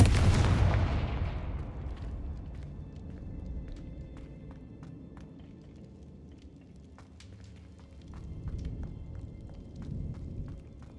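A Confringo fire blast spell in Hogwarts Legacy erupts loudly at the start, a booming burst that decays into a long rumbling tail, with lesser crackles and pops and another swell of rumble later on.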